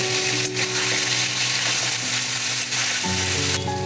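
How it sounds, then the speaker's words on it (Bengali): Green chili, ginger and tomato paste fry in a pan with a loud, steady sizzle, joined by stirring and a low background hum, with no voices. "দিয়ে এবার ভালো করে কষিয়ে নেব।"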